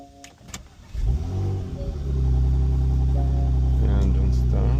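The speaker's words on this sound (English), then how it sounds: "We start engine with new one key." A 2016 Porsche Macan engine cranks and fires with a new spare key, a quick starter whir and a flare of revs around one second, then it settles into a steady, fairly close idle.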